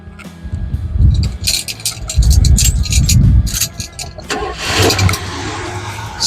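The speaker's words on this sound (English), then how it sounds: "starts right up every time. Listen to that motor." An unrestored original 1977 Chevrolet El Camino engine cranks with rapid starter ticks, catches and revs in loud bursts, then settles toward a lower rumbling idle close by with the hood open.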